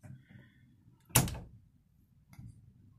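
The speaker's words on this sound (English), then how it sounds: "closing door" A car door on a Lada under restoration shuts with a single sharp, close slam in the middle, surrounded by quiet room tone and a faint later knock.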